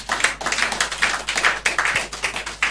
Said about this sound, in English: Shall we welcome her with a round of applause?